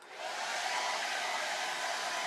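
A hair dryer blows hot air steadily to dry paint on a candy corn door hanger, a close, constant whir that holds at an even level throughout.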